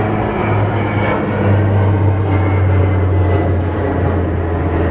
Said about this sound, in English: A plane coming overhead there.